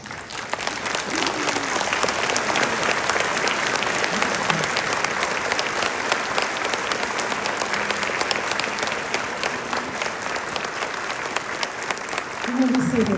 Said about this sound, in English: Can we stand and give them applause?